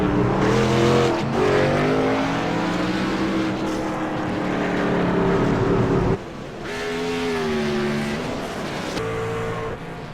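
Race trucks in a truck league race at Phoenix accelerating off pit road, loud engine roars climbing steadily in pitch through the gears, one truck after another passing close by.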